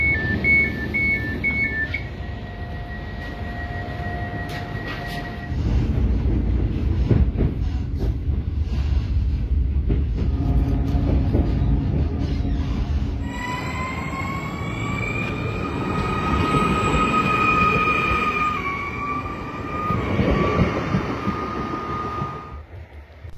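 A passenger train runs on the Riga–Jelgava railway line at the Atgāzene stop in Riga, its loud rumble rolling past nearby. Steady electronic beeps and tonal whines from the train rise over it partway through.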